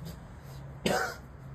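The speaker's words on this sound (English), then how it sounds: "You also might see me coughing a little bit." A single short, sharp cough or throat clear bursts out against a quiet room with a low steady hum.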